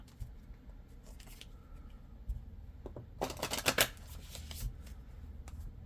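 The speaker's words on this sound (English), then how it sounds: "Going to pull some oracle cards next" Oracle cards are shuffled by hand for a full-moon tarot reading, with soft riffling and a brief flurry of quick card flicks, close and fairly quiet with no talking.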